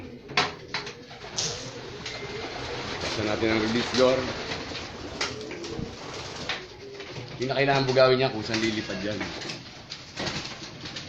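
Pet pigeons coo softly and repeatedly as they are let out of their loft through a release door, wings flapping among them, while someone talks nearby throughout.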